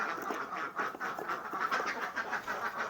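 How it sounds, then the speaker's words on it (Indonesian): Ducks quacking in a dense, rapid chorus of overlapping nasal calls, steady and fairly close throughout with no talking. "Itu bebek tua atau memang bebek mau mendekati dere."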